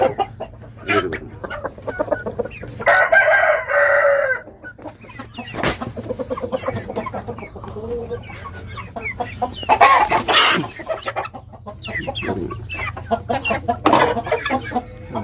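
Pakistani and Thai breed roosters cluck and crow nearby in a run of calls, with people talking at times over the birds.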